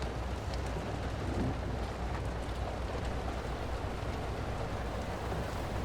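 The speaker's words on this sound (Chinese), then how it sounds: "怎么就突然下雨了呢？" Steady, dense rainfall pours down continuously, a broad even hiss with no pauses and no voices.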